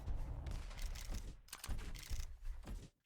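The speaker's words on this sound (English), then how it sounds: "Pushes him with the rockets" Repeated rocket launches and blasts in an arena shooter duel match, coming in several punchy bursts with short gaps between them before cutting off abruptly.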